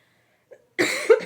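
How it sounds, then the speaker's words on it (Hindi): A woman coughs twice at close range, a short burst followed by a louder hacking cough, with a faint throat sound just before. "सॉरी खांसी के लिए।"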